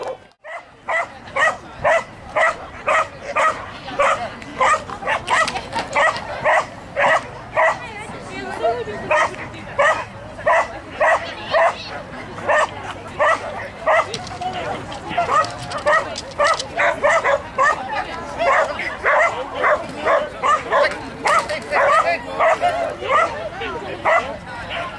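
Dogs bark repeatedly and loudly at an outdoor agility show, sharp yips and woofs coming in a rapid, near-continuous string close by, with crowd chatter and occasional voices in the background.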